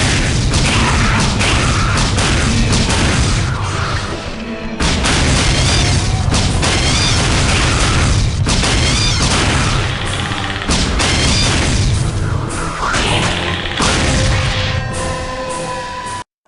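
Heavy explosions in the video game AVP2: Primal Hunt boom one after another, loud and rumbling, with crashing debris and near-continuous blasts filling the whole stretch.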